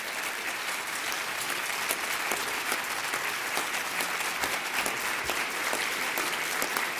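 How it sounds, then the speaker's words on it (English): An audience applauds steadily to welcome a speaker to the podium, a dense, sustained wash of many hands clapping that holds at an even level throughout with no speech. "Please give him a great round of applause and welcome him to the podium"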